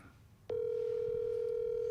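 After a quiet moment, a steady electronic ringing tone starts abruptly over a phone line and holds evenly to the end.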